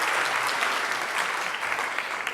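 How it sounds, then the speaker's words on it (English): A banquet audience applauds with a steady, full wash of clapping that stays loud and even from start to finish. "I think they deserve a round of applause, please."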